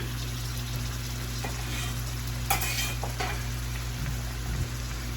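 Onions and apples fry in a skillet over medium-high heat, a steady close sizzle with a couple of brief stirring scrapes and clinks.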